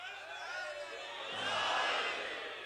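An audience at a religious majlis chanting a slogan together, a swelling collective roar that builds in the middle and eases off, heard at moderate distance.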